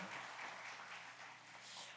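A church congregation at a Sunday morning service claps together in a soft, continuous patter that sounds distant and faint in the hall, with no speech over it.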